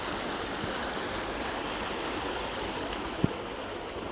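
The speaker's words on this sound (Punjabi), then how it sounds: "ਦੇਖ ਪਾਣੀ ਡਿੱਗਦਾ ਨਾ ਕਿੰਨਾ ਇਹ ਆ ਕੱਸੀ ਦਾ ਪਾਣੀ" Canal water gushing out of a pipe makes a steady, close rushing roar throughout, with one brief sharp click near the end and no voices.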